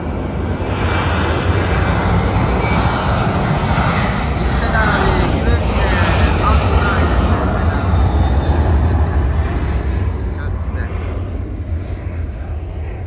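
An airplane passes overhead above a village balcony, a steady loud broadband engine roar with deep low rumble that holds throughout and fades slightly at the end, with no talk over it.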